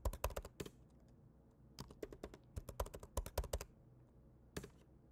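Keys on a computer keyboard clatter in quick irregular bursts as a password is typed, close and alone, with short pauses between clusters of keystrokes.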